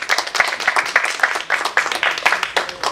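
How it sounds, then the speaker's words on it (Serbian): Audience applause at a book launch in a library marking its 110th anniversary, a steady burst of many hands clapping close by for about three seconds, with faint talk underneath. "I ja molim jedan aplauz za autora"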